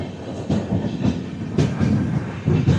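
Train rolling along the Jammu–Srinagar route, heard from inside an Uttar Sampark Kranti coach: a steady loud rumble with rhythmic clickety-clack wheel beats recurring roughly every half second, no voices.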